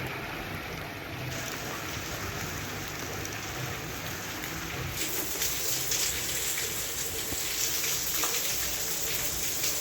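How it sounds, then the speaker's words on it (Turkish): Steady rain falls in Şanlıurfa city centre, a continuous even hiss of water on surfaces with soft bird cooing faintly in the background. "Şanlıurfa şehir merkezinde yağış nedeniyle kaza yaşanırken yağmur nedeniyle yollarda su birikintileri oluştu."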